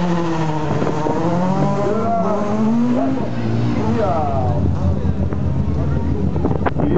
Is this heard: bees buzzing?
no